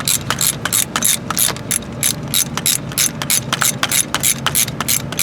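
Ratchet wrench removing a starter bolt on a 2002 Mitsubishi Lancer, a loud, close, steady run of rapid rhythmic clicks lasting throughout, with no talking.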